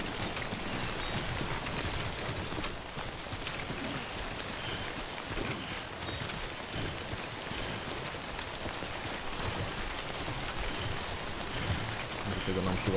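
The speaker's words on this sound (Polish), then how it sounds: "Bo to od tego deszczu on niszczy nam ładunek." Steady in-game rain in Death Stranding hisses as a dense, even wash of droplets falling on surfaces, fairly faint and unbroken throughout, with no other distinct sounds standing out.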